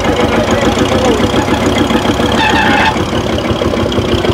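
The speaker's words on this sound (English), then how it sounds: "His Fordson Major diesel." A Fordson Major diesel tractor engine runs at a loud, close, steady idle with a knocking clatter, amid outdoor show crowd noise.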